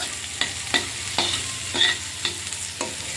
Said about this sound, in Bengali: এবার তুলে নিয়ে উচ্ছেটা ভেজে নেব।